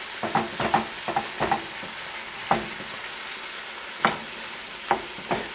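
Ground beef fries in a pan under a quiet, steady sizzle, with a spatula clicking and scraping several times in uneven bursts.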